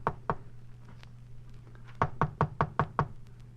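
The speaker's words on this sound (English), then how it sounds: "I knocked." Knuckles rap on an apartment door in an old radio drama: two knocks, a pause, then a quick run of six firm evenly spaced knocks over a low steady hum.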